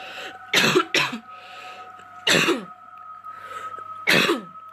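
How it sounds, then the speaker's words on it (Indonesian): A person coughs in several harsh, close bursts, a double cough followed by two single ones, over a faint steady background hum. "Aduh, batuk ini ada beberapa hari."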